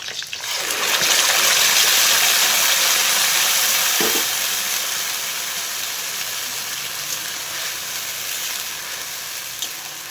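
Ground spice paste of ginger, chili, garlic, onion and tomato frying in a pan after whole onions, a steady broadband sizzle that swells loudly near the start, then holds and eases slightly, with no voices.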